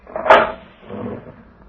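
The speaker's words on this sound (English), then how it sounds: "You may open the cell door for me" A prison cell door opens with a sharp metallic clack of the latch followed by a heavier, duller thud as it swings, close and loud with no talk.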